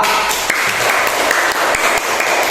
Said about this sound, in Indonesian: berikan tepuk tangan untuk kelompok A